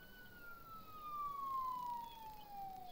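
A police car siren in the Thief Simulator video game rises and falls in a single faint, distant wail that slowly drops in pitch.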